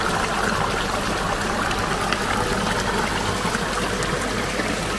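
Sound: mountain valley stream water flowing

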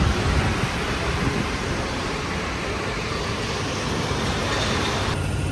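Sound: Paris metro train running

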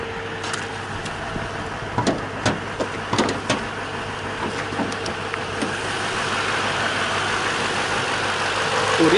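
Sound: 2016 Toyota Sequoia 5.7L V8 engine idling

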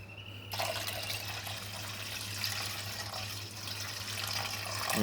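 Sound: washing wheat flour dough in water

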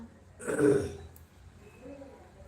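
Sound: coughing

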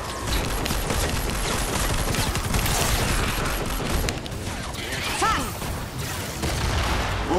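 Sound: grenade explosion in the video game Fortnite

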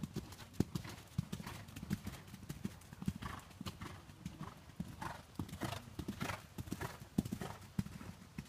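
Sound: horse hooves clip-clopping during riding clinic

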